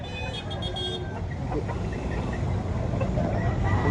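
Gamecocks at a rooster expo in Carbon Public Market, Cebu City, with a rooster call near the start over busy market noise and passing traffic, then lower murmuring and clucking.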